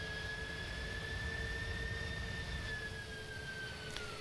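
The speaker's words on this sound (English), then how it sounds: "Why are the reversers on?" Jet engines of an Airbus A310 in Microsoft Flight Simulator with thrust reversers engaged while taxiing, giving a steady, loud roar with a sustained high whine running through the whole stretch.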